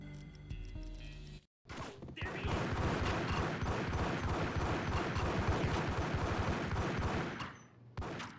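Dense, rapid gunfire in Max Payne rattles almost continuously for several seconds after a short pause, loud and close, with a few quieter shots before it.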